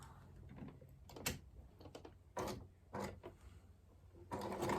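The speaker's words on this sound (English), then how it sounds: "starting there and back stitching because it needs to be strong" A sewing machine back-stitches the seam of a half square triangle quilt block in short, quiet bursts of rapid ticking, separated by brief pauses and small handling clicks.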